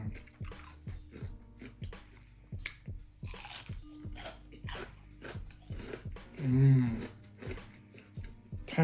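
Someone chews homemade double-fried Nashville hot chicken tenders up close, with steady, rhythmic crunchy bites and a brief humming murmur partway through.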